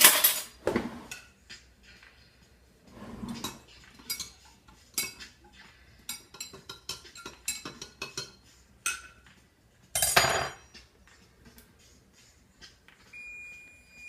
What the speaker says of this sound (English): now we just need to stir it up a little bit